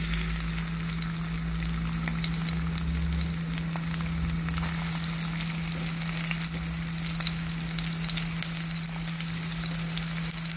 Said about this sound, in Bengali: তেলটা গরম হয়ে আসছে, উপর থেকে কিছু কিউমিন সিড ঢেলে নিচ্ছি। এবার যে আমি অনিয়ন চপ করে গেছিলাম সেটার মধ্যে ঢেলে নেব।